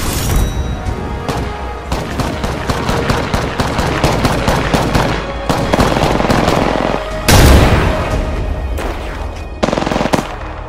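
Apex Legends gunfire crackles in sustained automatic bursts, loud and near, broken by a heavy blast near the middle and more short volleys toward the end.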